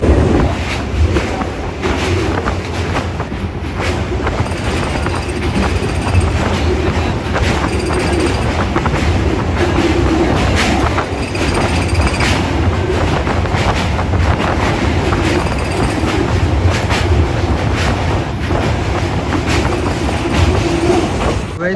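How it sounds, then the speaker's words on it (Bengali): A passenger train rumbles along the rails continuously near Bandel Junction, with a steady low roar, rhythmic clatter and some wind buffeting, close and loud. "তা চলো ট্রেনটা ছাড়ুক"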